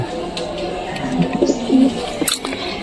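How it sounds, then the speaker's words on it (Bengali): A pigeon coos softly and close by in a short rhythmic series of low throaty calls, with faint background noise. "নতুন কবুতর ডিম দিয়েছে"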